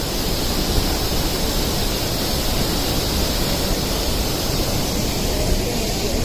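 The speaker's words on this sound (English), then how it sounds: "Here's the Dabhosa Waterfall and it's really awesome." The Dabhosa Waterfall roars steadily in a broad, dense wash of falling water, loud and constant throughout with no talk over it.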